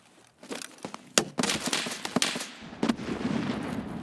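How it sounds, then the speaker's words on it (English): Gunfire in the video game Escape From Tarkov on the Shoreline map: scattered sharp cracks and short bursts at irregular intervals, moderately loud, some shots closer and some farther, with no talk. "I'm starting to take fire from somewhere"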